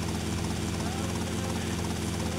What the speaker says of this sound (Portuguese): Ah, vamos voltar de helicóptero pra casa